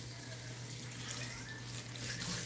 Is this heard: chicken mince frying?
no